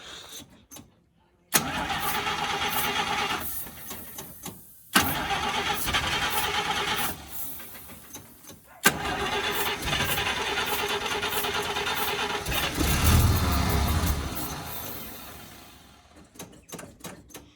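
A car engine cranks and fires up during a road trip with several cars, settling into a steady mid-pitched idle with brief clunks like a door, close and loud.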